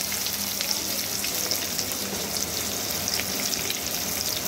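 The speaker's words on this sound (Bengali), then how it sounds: "সামান্য একটু হলুদ গুঁড়ো দিয়ে খুব ভালো করে নাড়াচাড়া করে একটু ভেজে নেব" Stuffed pointed gourds (potol) with chicken filling frying in oil with salt and turmeric, a continuous even crackling sizzle, close and moderately loud, no speech.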